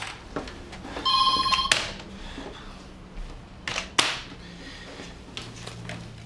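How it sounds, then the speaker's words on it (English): A telephone rings in a short bright electronic burst, then a few more brief clicks and knocks follow amid quiet room sounds, with no talking heard. "Sean, pick up the phone."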